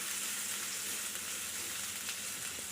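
Spices for Kerala-style rasam sizzle steadily in a hot pan while being stirred and fried until brown, a dense close crackling hiss with no voices over it.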